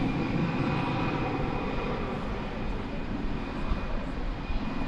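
An Envoy airliner on runway 18 left at DFW Airport gives off a steady, broad engine roar at moderate distance, a continuous wash of noise with a faint high whine.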